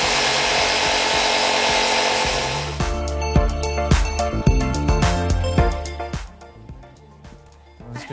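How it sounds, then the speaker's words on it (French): A jigsaw cutting wood, a dense continuous buzzing rasp for a few seconds, then stopping, followed by scattered knocks and clatters. "C'est la scie sauteuse maintenant."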